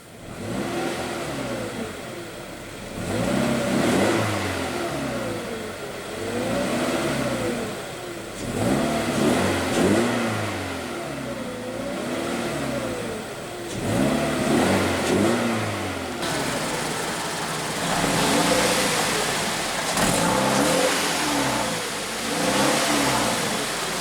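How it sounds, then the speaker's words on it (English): A 2016 Scion FR-S 2.0 L four-cylinder engine revs repeatedly, rising and falling in several strong pulses over idling, close and loud, with a longer rev near the end. "And let's go ahead and rev it up."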